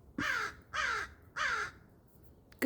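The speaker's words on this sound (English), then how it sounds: "Caw, caw. Did you hear that? There's a conversation going on with a" Crows caw three times in a slow, even sequence, each call harsh and fairly clear against quiet background, with a faint clatter at the very end.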